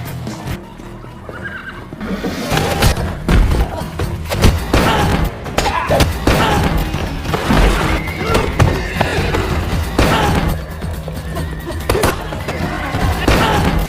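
Horses neigh and whinny loudly in a stable in a John Wick film, over clattering hooves, heavy thuds and a busy, dense action soundscape.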